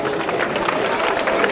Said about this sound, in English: Children, keep clapping for them.